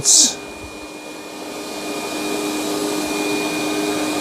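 A Eufy X8 Pro robot vacuum and mop runs at maximum suction, producing a loud, steady whirring drone that holds constant after a brief burst at the start.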